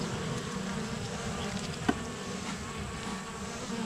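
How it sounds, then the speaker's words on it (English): Honeybees buzzing in a steady, close drone over an outer beehive frame holding honey, with a single brief click partway through and no voices. "I see there's bees on here on the outer frame sitting on honey."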